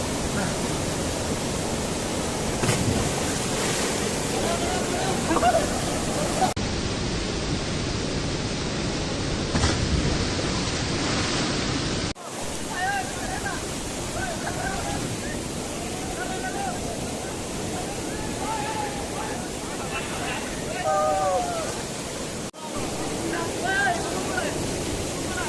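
Roaring waterfall at Chutfall near the Dhansri Hydro Project in Udalguri, a steady loud broadband rush of falling water filling the scene, with voices faintly heard under it.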